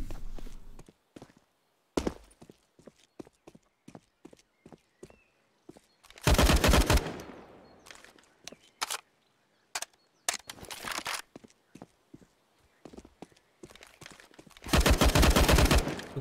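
Gunfire in a shooter video game, with sharp single shots and several loud sustained bursts of automatic fire, separated by quieter footsteps and small clicks.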